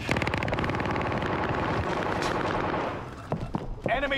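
Rapid automatic gunfire in a battle royale video game, dense bursts of machine-gun shots that fill the first three seconds and then break into scattered single shots as a voice speaks over them.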